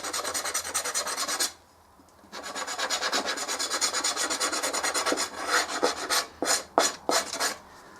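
Rapid rhythmic rasping strokes of compound being rubbed onto a new leather knife strop, steady and close, pausing briefly once before resuming and ending in a few slower separate strokes.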